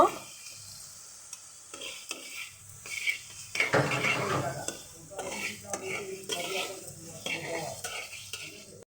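A spoon scrapes and clinks as potatoes are stirred in a pan for a snakehead fish curry, with a soft sizzle underneath and irregular bursts of utensil clatter close by.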